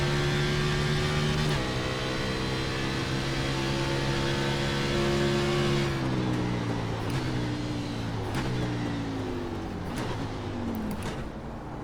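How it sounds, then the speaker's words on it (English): A NASCAR Xfinity race car engine in the iRacing sim holds a steady high drone, then drops through a series of downshifts, each step a quick blip as the pitch falls and rises again. "Downshifted to first there"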